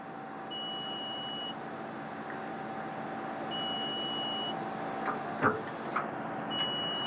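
Three long, steady electronic beeps from the controls of a 2017 IMT 20/138K2 crane on a 2018 Kenworth T880 truck, spaced a couple of seconds apart, over a constant low engine hum with a few sharp clicks near the end.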